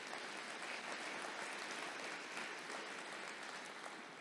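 Faint, distant audience applause at a DevOpsDays tech conference talk, a dense even patter of many hands sustained throughout with no voices over it.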